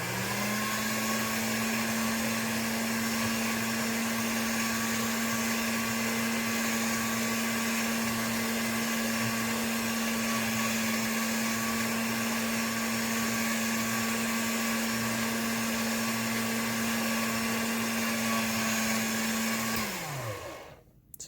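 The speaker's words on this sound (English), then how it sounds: "I'm going to put this through my pasta machine just to kind of make it even" A motorized pasta machine rolls polymer clay flat, giving a loud steady mechanical whine and hum that holds for about twenty seconds and then winds down quickly at the end.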